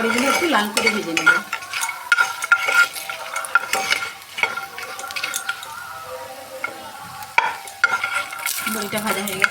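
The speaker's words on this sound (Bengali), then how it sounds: "বড়িগুলো একটু লাল করে ভেজে নেব।" Lentil dumplings (bori) frying in oil in a pan while being stirred, with steady close sizzling and repeated scraping stirs of a utensil against the pan throughout, no talking.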